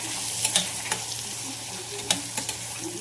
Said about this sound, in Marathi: कांदा चांगला भाजून घ्यायचा बघा.